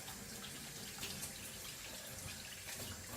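A kitchen tap runs steadily as hands are rinsed under the stream, producing a quiet, continuous splashing wash without speech.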